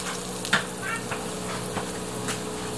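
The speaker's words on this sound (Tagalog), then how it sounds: "nilalagay po natin yung butter at tutunawin po natin" Butter melting in a hot pan, a soft steady sizzle with occasional light pops and stirring scrapes, close and moderately quiet.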